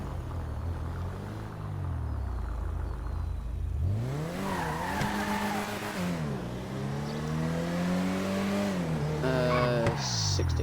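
Cars in the video game GTA V brake hard from 60 mph, with a loud engine drone giving way to a long, wavering tire squeal and skid, then further rising and falling squeals, all close and continuous.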